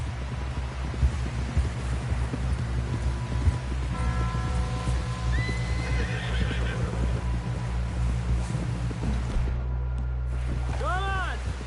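A horse neighs and snorts in Red Dead Redemption 2 while hooves thud beneath a dense, continuous bed of game sound, with a voice calling out and a sharp, rising whinny near the end.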